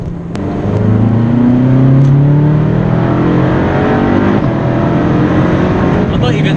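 A Ferrari California's engine revs up hard as the car accelerates, loud and close from inside the cabin, its pitch climbing in steady pulls with brief shifts before holding a strong drone.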